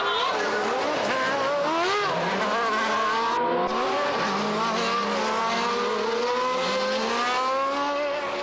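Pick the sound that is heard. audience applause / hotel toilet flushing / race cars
race cars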